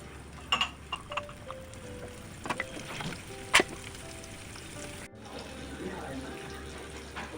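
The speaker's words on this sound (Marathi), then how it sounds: "तेल गरम झालेलं आहे आता आपण मांदेली मच्छी फ्राय करायला घेऊ" Mandeli fish (golden anchovy) fry in hot oil in a home kitchen with a soft, faint sizzle. Scattered clicks and utensil knocks sound on top, and a short thump comes partway through.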